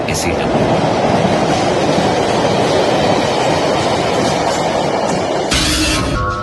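Moving local commuter train interior, a loud steady rumbling roar of the carriage running along the track throughout, with a brief shift in texture near the end.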